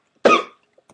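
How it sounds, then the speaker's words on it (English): A single sharp cough from an adult, close and loud, ending quickly in near silence. "Excuse me, I have a cough today, sorry."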